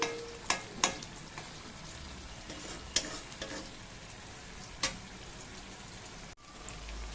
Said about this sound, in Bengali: এখানে দুটো ডিম ভাজতে দিয়েছি